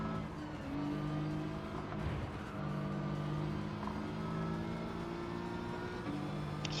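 Race car engines drone steadily in Gran Turismo 7 at Blue Moon Bay, a continuous high-pitched roar with shifting tones as cars run close together, a brief tire-scrub rasp rising near the middle.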